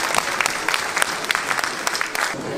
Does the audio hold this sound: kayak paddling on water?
no